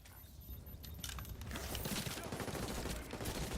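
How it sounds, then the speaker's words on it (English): A video game nail gun fires in a fast, rattling stream of sharp clacks, faint at first and then building into a dense, continuous burst that holds for a few seconds. "Fucking nail gun."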